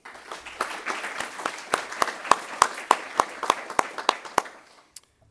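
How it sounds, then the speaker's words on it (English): Modest applause from a small audience at a biohealth communications competition: scattered, distinct individual claps in a loose rhythm, tapering off into a few final claps before silence. "So you can give some applause to both Ryan Adam and Devesh Kumar."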